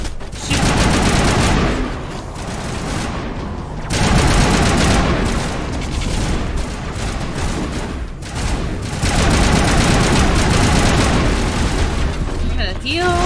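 Gunfire and explosions from the video game Mass Effect Legendary Edition, sustained loud bursts of automatic fire with heavy booms, continuous through the passage, under a player's excited talk.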